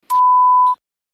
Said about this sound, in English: This is my beep.